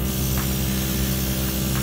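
An airbrush driven by a new compressor sprays paint onto an HG Gundam Rose model kit, giving a steady, even hiss of air over a low mechanical hum, close and continuous, with no talking.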